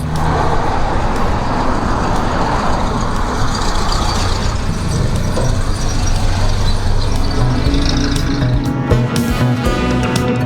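Vintage cars of the Vintage Car Club set off on the Burma Rally in Whanganui, a steady loud rumble of engines and passing traffic filling the street throughout.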